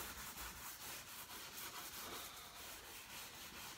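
Steel wool rubs back and forth over wood being darkened with a vinegar stain, a steady, faint, dry scraping with even strokes and no voices.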